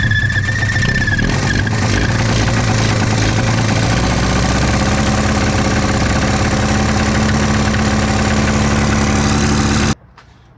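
An Arctic Cat snowmobile engine runs and idles loudly up close, with a rough, buzzing drone and a high squeal early on, before cutting off abruptly near the end.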